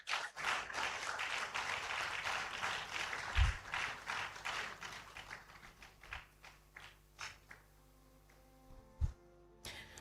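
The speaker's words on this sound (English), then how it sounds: "Let's kindly applaud him whilst he makes his way to take his seat" An audience applauds a professor after his inaugural lecture, dense clapping that slowly thins into scattered claps with a few knocks, heard from within the hall.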